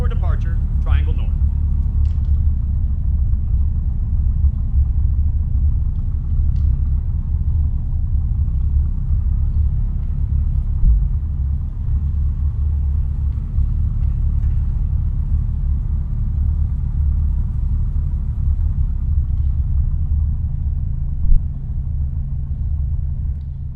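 A Diamond DA20 light aircraft taxis in X-Plane 12, its engine a steady low rumbling drone held close and loud throughout, with a voice talking over it.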